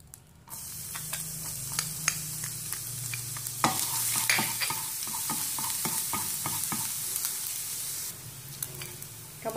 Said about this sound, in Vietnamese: Và mình sẽ cho tỏi băm vào.